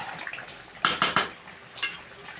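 Chicken curry stirred in a pot right after the lid comes off: three sharp metallic scrapes of a spoon against the pot in quick succession, then one softer scrape, close and clear with no talk.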